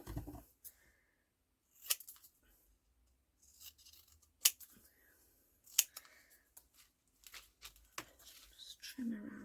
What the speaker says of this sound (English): Right, let's just cut around these.